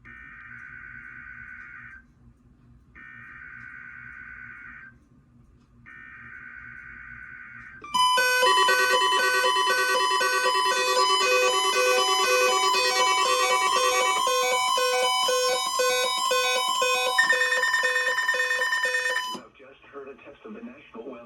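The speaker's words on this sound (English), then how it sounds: "the National Weather Service radio warning alarm feature" A NOAA Weather Radio weekly test: three short bursts of a steady tone separated by silences, then a loud continuous warning alarm tone holding for about eleven seconds before cutting off as a synthesized voice resumes.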